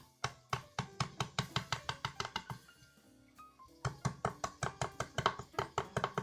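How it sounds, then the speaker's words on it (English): Lemongrass stalks struck hard with the heel of a knife on a cutting board: a fast, regular run of sharp knocks, a short pause, then another quick series of close, crisp thumps. "what you want to do is use the heel of the knife."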